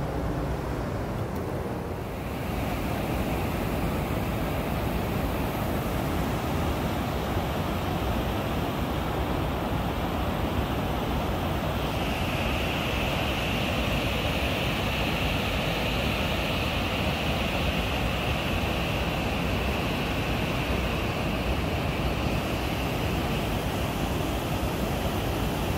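Water pours over the spillway of the Boqueirão reservoir near Solonópole, a dense unbroken roar, loud and close, that holds steady throughout with no voices over it.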